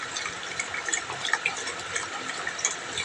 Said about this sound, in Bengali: বোতলে জল ভরে রাখলে আমার সুবিধা হয়